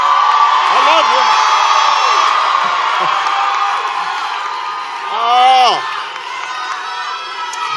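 A rally crowd in Newark cheers and whoops loudly and continuously, with scattered shouts rising above the roar, and someone speaking over it.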